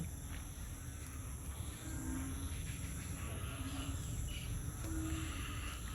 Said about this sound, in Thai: อึ่งอ่างร้องระงงมเลยนะครับ